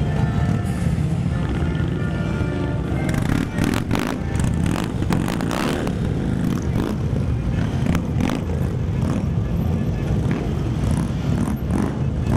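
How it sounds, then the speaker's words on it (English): Loud motorcycles rumble and rev steadily through a Veterans Day parade, a dense continuous engine roar with bursts of acceleration passing close by, alongside crowd noise. "motorcycles are loud. They are loud. They are very loud."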